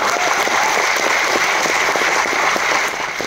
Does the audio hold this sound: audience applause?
yes